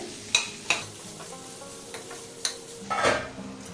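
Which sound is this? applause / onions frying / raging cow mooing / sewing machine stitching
onions frying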